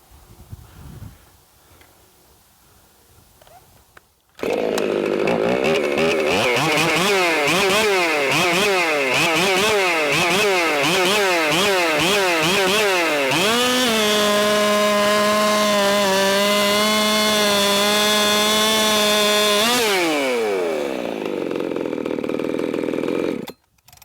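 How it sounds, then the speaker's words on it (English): Purpose-built Husqvarna 365 Extra Special gasoline race chainsaw starting up, revving in quick surges, then screaming at a sustained high pitch near and very loud before cutting off. "this right here is a purpose-built gasoline race saw"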